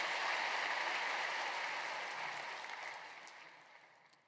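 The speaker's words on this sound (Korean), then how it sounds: "귀한 찬양으로 은혜를 주신 우리 겟세마네 찬양팀에게 뜨거운 감사의 박수 한번 주시기 바랍니다" A church congregation claps for the worship team at a Friday evening service at Yoido Full Gospel Church. The applause is dense, steady and enthusiastic, then gradually fades over the final seconds, with no talking.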